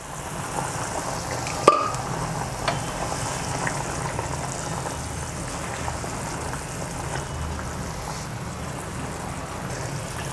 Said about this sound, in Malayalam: നല്ലതുപോലെ തിളച്ചിട്ടുണ്ട്